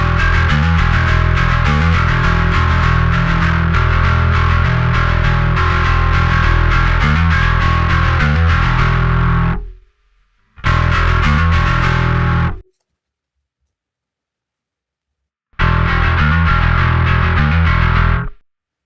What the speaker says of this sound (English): Let's hear how it sounds when I start rolling off the low pass filter.